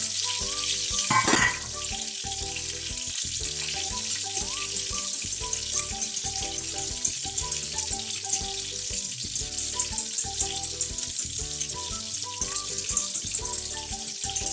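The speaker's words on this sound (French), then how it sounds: "On déglace au fond brun, tout simplement." A pan of duck breast juices sizzles steadily after being deglazed with brown stock for a honey and raspberry sauce. The constant hiss and bubbling stay close and fairly quiet, with a brief scrape near the start and no talk.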